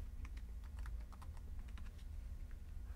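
Rapid keystrokes on a computer keyboard as a new password is typed, a light irregular clicking that runs steadily and close by without speech.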